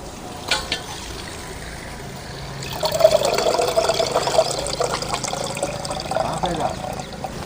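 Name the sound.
water poured for grinding urad dal batter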